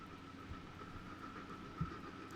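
A passenger train in the Transport Fever 2 game, an old rusty one, rolls along with a steady low rumble and soft rail clatter, plus a brief thump near the end, quiet and unbroken by talk.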